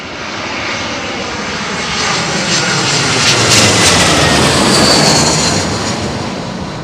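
An airliner arriving overhead on runway 27L at London Heathrow, a loud, broad jet roar that swells as it passes directly above and stays strong to the end.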